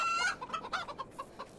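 Chickens cluck in the video game HumanitZ, a quick run of short, close clucks with one sharper squawk near the start and no talking.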